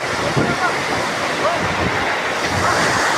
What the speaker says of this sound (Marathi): किती खोल आणि पाण्याचा वाह बघा तुम्ही